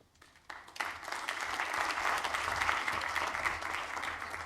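Audience applause for a panelist at a pediatric medicine event: clapping starts thin and quickly swells into steady, dense applause from a moderately sized crowd, sustained without talk.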